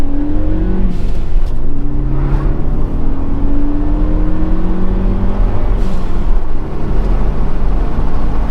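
A Ford Focus ST fitted with a high flow air filter accelerates hard, its engine note climbing in repeated rising sweeps as it works through the gears, loud and sustained with steady road roar beneath.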